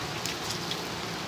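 Steady rain falls on a surface in a continuous even hiss, fairly faint, with no voices and no clear individual drops.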